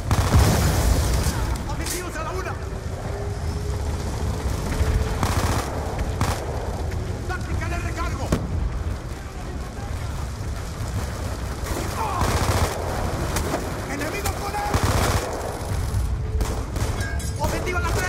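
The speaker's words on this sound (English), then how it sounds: "They got a heavy gun bumping on the balcony." Heavy machine gun fire from a balcony in a PC video game's story mode, sustained rattling bursts over a dense battle din, with voices talking over the gunfire throughout.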